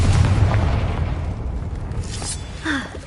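A Confringo blast spell in Hogwarts Legacy erupts in a loud, deep boom at the start, then decays into rumbling debris with a faint later pop.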